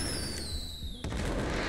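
An RPG rocket launcher fires in FiveM, a GTA V mod running a YBN soundpack, giving a single loud blast after a rising whistle-like tone, followed by a rumbling tail.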